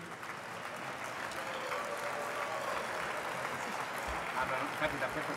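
An audience claps at an Italian round-table summit on economics, with sustained, even applause filling the hall and low rumble beneath it, no voices rising above it.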